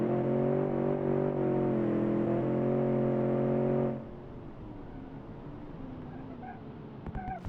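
A Porsche engine in a video game hums with a steady, tonal drone, then drops abruptly to a quieter rumble with faint clicks near the end.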